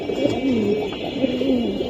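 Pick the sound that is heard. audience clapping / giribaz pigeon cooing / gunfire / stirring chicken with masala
giribaz pigeon cooing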